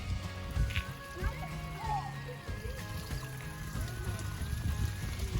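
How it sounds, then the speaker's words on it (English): Hot mineral spring water splashes and trickles continuously at Teepee Fountain in Thermopolis, Wyoming, a soft steady watery patter heard outdoors beneath low rumble and faint voices. "This is not the extinct one, because I hear water."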